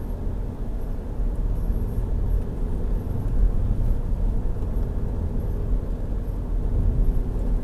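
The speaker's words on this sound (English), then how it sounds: "So just going to do a little drive here in the daytime." A car drives along in the daytime, picked up by a dash cam's built-in microphone: a steady close low rumble of engine and road noise with faint higher tones, continuous and without talk.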